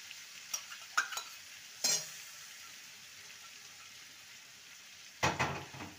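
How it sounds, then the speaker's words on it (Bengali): Mixed vegetables sautéing in a pan with ginger paste: a faint, low sizzle hiss under a handful of sharp spatula scrapes and metallic clinks, the loudest burst arriving at the very end. "আদা বাটা দিয়ে ভালো করে কষিয়ে নেব।"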